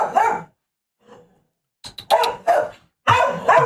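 A dog barks in a few short, loud bursts separated by pauses, close to the microphone, with no talking.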